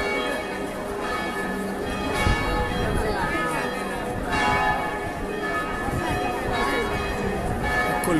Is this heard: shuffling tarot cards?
no